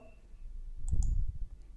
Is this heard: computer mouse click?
yes